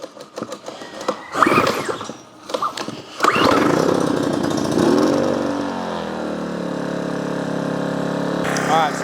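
A Powersmart PS55 1000-watt inverter generator is pull-started with choke out: several quick rope pulls rasp and sputter, then the small engine catches and settles into a steady, close, droning run.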